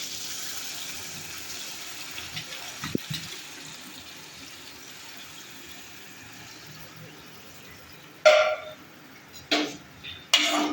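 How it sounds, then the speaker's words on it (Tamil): A fish mixture for a Sri Lankan fish curry is poured into a pan, heard as short splashy gushes of liquid near the end after a quiet stretch with faint clatter. "வதங்கிட்டு உடைச்சி வச்ச மீண்டினை இதோட சேர்த்து ஊற்றலாம்"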